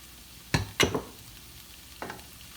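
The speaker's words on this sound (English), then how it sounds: "we're just going to toss this in some barbecue sauce" Chopped brisket is scraped and tossed in barbecue sauce in a hot pan: two quick clattering stirs close together, a pause of low sizzle, then a softer third toss.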